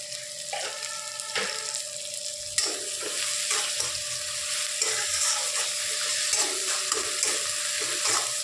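Onion and tomato fry in a pan for a light fish curry, giving a steady loud sizzle with repeated stirring scrapes and clinks running throughout; no voices.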